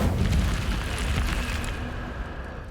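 Incendio fire spell in Hogwarts Legacy, a burst of roaring flame with a low rumbling whoosh that slowly fades, crackling textures on top, no voices.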